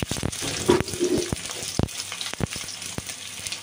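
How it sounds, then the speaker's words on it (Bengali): Pieces of spiny gourd fry in oil with salt and turmeric, a close sizzle punctuated by frequent sharp knocks and scrapes of a utensil turning them in the pan. "আমি এখন এই ঘি করলাগুলো আমি একটু ভেজে নেব, নুন হলুদ দিয়ে ভেজে তুলে রেখে দেবো"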